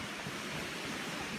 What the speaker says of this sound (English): Ooh, we can really hear the waterfall now.